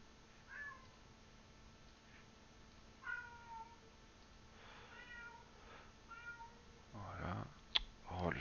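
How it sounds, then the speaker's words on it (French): A domestic cat meows several times indoors, short tonal calls spaced a second or two apart and fairly clear over a quiet hum, with a brief voice and a sharp thump near the end. "chat."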